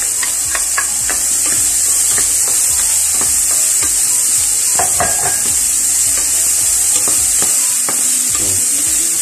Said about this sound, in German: Und unsere Frühlingszwiebeln auch noch mit dazu.